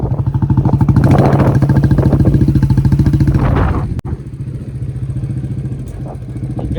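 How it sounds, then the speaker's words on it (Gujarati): A Royal Enfield Classic Bullet motorcycle idles close by with its deep, evenly pulsing single-cylinder thump, briefly swelling and then settling back to a steady beat after a sharp knock. "બુલેટનો અવાજ જો અવાજ"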